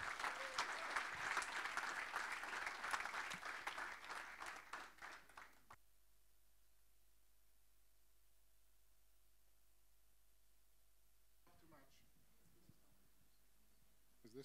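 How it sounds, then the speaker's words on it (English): Audience applause for a speaker at a storytelling talk, loud and dense at first, then thinning and fading out after a few seconds into near silence, with faint scattered noises and a voice near the end. "Give him a big, fat round of applause."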